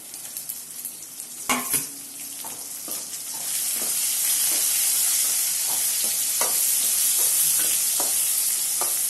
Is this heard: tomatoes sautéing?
yes